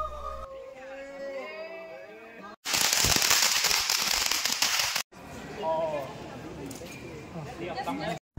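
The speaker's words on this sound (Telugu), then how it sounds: "సో అందరూ వచ్చి క్రాకర్స్తో ఎంజాయ్ చేశారు" Firecrackers burst at a Diwali celebration in Taiwan, producing a loud, dense crackling barrage between stretches of festive background sound with distant chatter.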